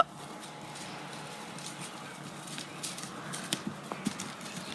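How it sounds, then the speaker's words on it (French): A horse gallops in a circle in a riding arena, its hoofbeats soft and somewhat distant, growing into a run of clearer thuds toward the end over a steady background hiss. "Donc là tu vas galoper, tu vas faire un cercle là-bas."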